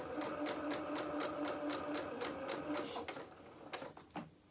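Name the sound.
sewing machine stitching a quarter-inch seam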